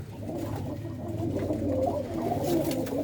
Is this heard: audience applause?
no